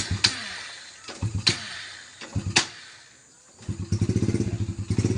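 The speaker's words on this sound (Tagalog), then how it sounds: "So, papandar na yung motor nito" A motorcycle engine with freshly repaired wiring is cranked several times, each attempt a sharp clattering burst with short pauses, until it catches and settles into a close, steady, rapidly pulsing idle.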